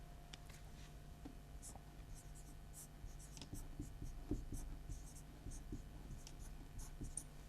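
Chalk or marker writing on a board during a Class 8 mathematics lesson, with faint scratchy strokes and tapping across the whole stretch, quiet and close in a low-level room hum.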